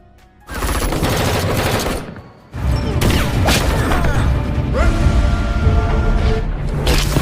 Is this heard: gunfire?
yes